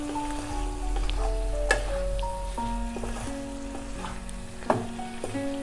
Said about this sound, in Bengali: ভালোভাবে একবার একটু মিশিয়ে নিচ্ছি মটরশুঁটিটা।